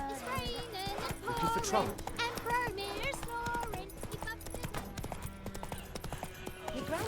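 In The Witcher 3, the horse Roach gallops with rapid rhythmic hoofbeats beneath a voice and a game music score.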